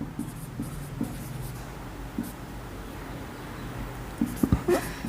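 Steady writing strokes on a board or paper during a maths lesson, a run of soft scratchy marks with brief pauses and a few sharper taps near the end, close and fairly quiet.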